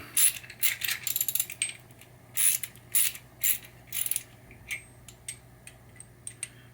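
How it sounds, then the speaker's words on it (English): Bursts of quick ratchet clicking as bolts are tightened on a Harbor Freight lift table, several short clattering runs separated by pauses, close and fairly crisp, with no talking. "So now we're going to tighten them up."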